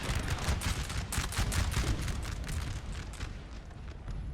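Dense musket volleys crackle and boom continuously in a Napoleonic battle game, French and English lines firing together into a sustained roar of layered gunfire with no voices over it.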